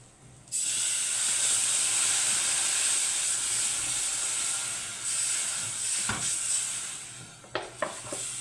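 Water hits hot fried onions in a pot with a sudden loud hiss that settles into sustained steaming, followed by a few clanks of utensils near the end.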